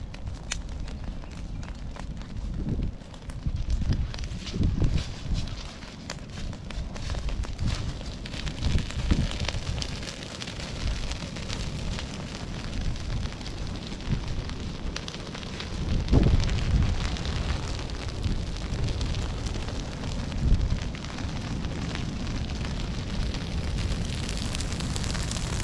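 Prescribed burn fire roaring and crackling steadily outdoors, a dense continuous rush with occasional louder pops and gusts of wind, close and sustained.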